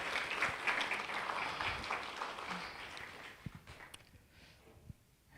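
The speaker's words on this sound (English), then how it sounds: "Let's give it another round of applause." An audience at a spring workforce graduation ceremony applauds in a fairly faint, distant patter that thins into a few scattered claps before fading away.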